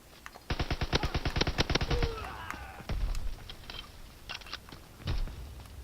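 Submachine gun in Call of Duty WW2 fires a rapid, loud burst of evenly spaced shots, then a few scattered single shots and short bursts follow.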